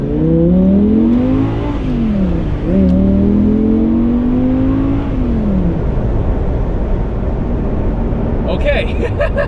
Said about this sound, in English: after we're past this loud bus